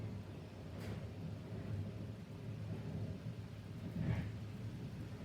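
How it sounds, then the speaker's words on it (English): Low rumbling thunder rolls under steady heavy rain during a rainstorm in England, with deep rumbles swelling near the start and again toward the end. "That's complete thunder, everyone."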